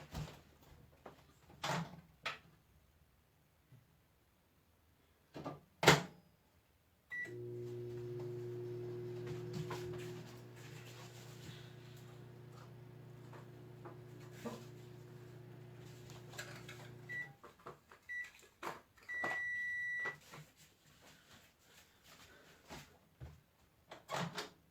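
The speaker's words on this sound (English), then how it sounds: "I have, a thing of got Monster Clay in the microwave, and I believe it's all heated up now." A microwave oven heating Monster Clay hums steadily for about ten seconds, bracketed by clunks of the door and scattered handling knocks, then a short electronic beep near the end.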